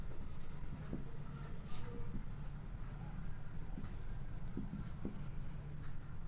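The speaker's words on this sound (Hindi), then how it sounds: "तो इसको मैं लिख देता हूँ यहाँ पे इक्वेटिंग" Chalk or marker strokes scratch steadily across a board while equations are written, a soft, continuous scraping with short taps, accompanied by a faint low voice.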